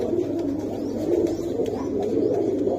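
Prince Kamagar pigeons coo in low, soft, rolling calls, close by and continuous, with faint background noise.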